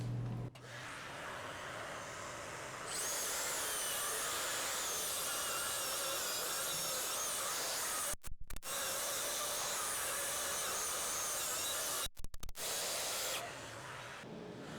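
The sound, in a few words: vacuum cleaner running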